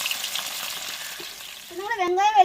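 Onion, garlic and green chili fry in hot oil with a soft, close crackle, then a voice begins talking over the sizzle near the end.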